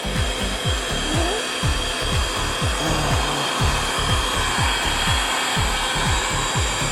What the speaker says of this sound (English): I'm going to get the heat gun in shot so you can see that I'm using the heat gun.